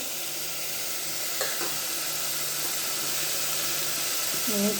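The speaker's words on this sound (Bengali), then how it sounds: "পেঁয়াজ আর তেল আর রসুন দিয়া একটু ভাজা ভাজা করছি" Potatoes, onion and garlic fry in oil with a steady, even sizzle and hiss that holds throughout, broken by a couple of faint clinks near the end.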